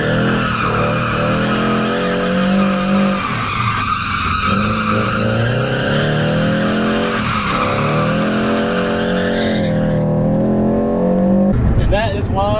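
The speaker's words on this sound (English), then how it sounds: "I just drifted that roundabout perfect" A car drifts around a roundabout on stock steering angle, tires squealing in long wavering skids over a droning engine, loud and close, with a break where the squeal drops before revving returns.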